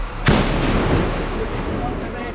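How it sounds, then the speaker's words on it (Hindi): A sharp blast followed by a sustained rumbling roar during an army encounter with militants in the Gadol area of Anantnag, Kashmir, heard as one loud burst that decays into a long, noisy tail. "गाडोल इलाके में आतंकवादियों और सुरक्षा बलों के बीच सुबह पहले गोलियों और धमाके की आवाज सुनी गई"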